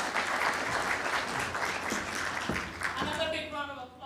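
Large audience at a SADC CEO forum applauding warmly, a continuous dense wash of clapping that thins toward the end as a voice begins speaking over it.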